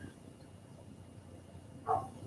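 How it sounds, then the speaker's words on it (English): One short, faint bark from a dog somewhere at a distance, rising once out of a quiet, low background hum near the end. "It's okay if we're annoyed by the dog barking in our videos."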